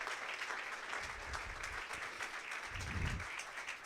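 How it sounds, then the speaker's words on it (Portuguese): Congregation applauding during a church service: a faint, continuous wash of many hands clapping, heard at a distance and kept at an even level throughout. "Oh, aplauda ao Senhor."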